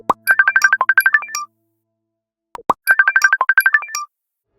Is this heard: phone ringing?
yes